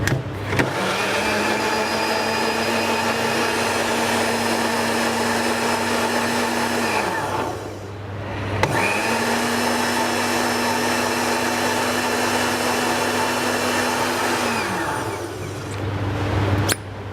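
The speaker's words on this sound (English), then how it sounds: "I'm going to transfer them into the blender." Roasted peppers with a splash of stock whirl in a blender, which roars loud and close in two long runs separated by a short pause, with a whining motor tone throughout.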